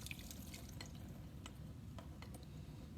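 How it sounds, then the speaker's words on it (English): Vinegar and milk liquid strained through into a container, dripping in scattered, irregular drops, faint and close over a low background rumble, with no talk. "we're just going to strain all the vinegar and the milk juice out of that."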